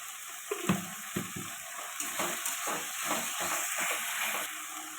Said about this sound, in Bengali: আদা কাঁচা লঙ্কা বাটা আর জিরে একসাথেও দিয়ে দিলাম। এটা ভালো করে কষাবো।